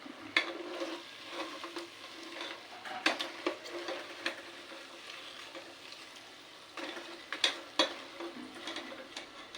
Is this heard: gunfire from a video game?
no